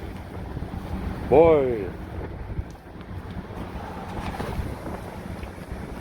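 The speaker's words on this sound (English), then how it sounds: "It's really windy, so I apologize" Strong wind buffets the microphone outdoors and rumbles low and steady throughout. Someone speaks a brief word near the start.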